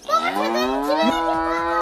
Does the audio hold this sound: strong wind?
no